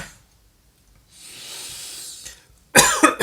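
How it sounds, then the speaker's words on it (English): A single harsh cough bursts out loudly near the end, preceded by a soft hissing breath and near silence. "that was a cough"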